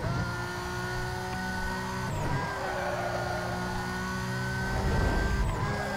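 Race car engine in the video game Need for Speed Most Wanted, a steady, loud engine drone with sustained harmonic whine and brief shifts in pitch as it keeps accelerating, with no talking.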